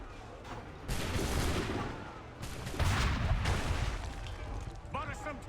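Musket volleys and cannon blasts roar through a battle in Assassin's Creed 3, two loud sustained bursts of gunfire over a noisy battlefield, with voices speaking in between.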